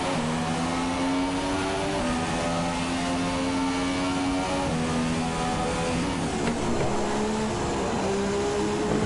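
A Formula 2 race car at the Monaco Grand Prix screams past, its loud high-revving engine whining steadily with rising and falling gear pitches and a shift partway through, continuous and close throughout with no talk.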